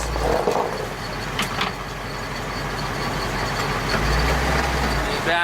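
A 1978 Jeep J20 4x4 plow truck bought at a farm auction, its engine running with a steady, loud low rumble and a heavier throb near the end, while people talk nearby.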